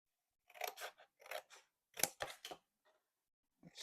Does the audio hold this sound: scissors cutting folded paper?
yes